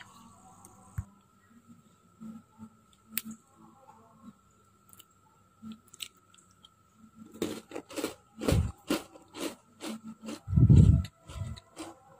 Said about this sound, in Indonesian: Tapi waktu kita makan itu renyah bener.